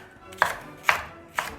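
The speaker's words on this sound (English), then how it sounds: "So we chop up the green pepper" A knife chops through green pepper on a cutting board while goat curry is being made, with three crisp, evenly spaced chops standing alone and close.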